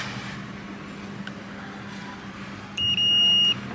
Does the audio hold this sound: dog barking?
no